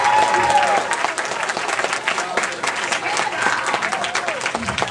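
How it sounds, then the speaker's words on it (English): Applause from a convention crowd at an anime panel, many hands clapping in a dense, steady wash that fills the room, with voices mixed in beneath. "give a round of applause to the tech people that set that"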